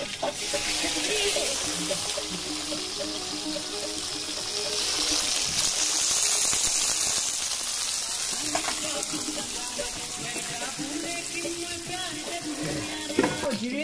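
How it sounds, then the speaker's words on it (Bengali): Beans and carrots fry in a pan at a rooftop picnic, giving a steady, fairly loud sizzle with watery crackle throughout and a brief clatter near the end. "বিনস আর গাজর ভাজা হয়ে গেছে।"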